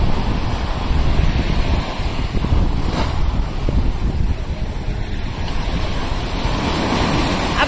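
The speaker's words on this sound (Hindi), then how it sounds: "ये वाले अजमान बीच में वेव्स बहुत अच्छी आ रही हैं" Ocean waves surge and wash steadily along Ajman Beach in the UAE, a loud continuous roar of surf mixed with heavy wind buffeting the microphone, no voices over it.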